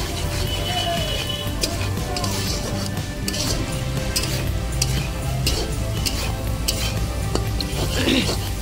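Maggi noodles with masala and pumpkin flowers are stirred in a pan: close, repeated scraping and clinking of a utensil against metal over a light sizzle.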